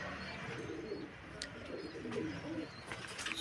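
A pigeon from a topi battery loft coos softly and repeatedly at close range, low rounded calls rising and falling over a faint background hiss, with no talking.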